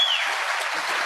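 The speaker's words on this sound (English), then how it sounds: "You can applaud," An audience at a political town-hall event claps in steady, dense applause that fills the whole moment, loud and continuous with no voices over it.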